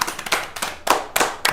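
Rhythmic group clapping during a party game: a short run of about five or six sharp, evenly spaced bursts, close and clear, with no talk.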